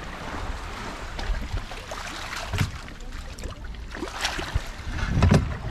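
A boat on the open sea during a compressor diving and spearfishing trip, with a steady low drone of engine noise mixed with water and wind buffeting, swelling louder toward the end.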